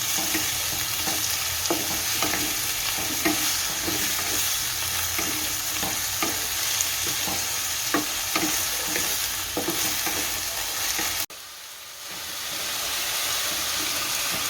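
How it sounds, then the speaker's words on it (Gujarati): Potatoes with onions stir in hot oil for Gujarati upma, giving a steady loud sizzle with regular scraping strokes of a spoon against the pan. The frying cuts off abruptly near the end, then a softer hiss returns. "હવે આપણે બટેકા નાખશું, અને મિક્સ કરી દેવું સારા હલવાની પૂરા।"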